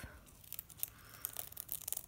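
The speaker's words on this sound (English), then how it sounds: "time to take off those tapes off" Tape peeling off the edges of an acrylic pour galaxy painting, giving a run of quiet, close ripping and crinkling bursts that grow more frequent toward the end.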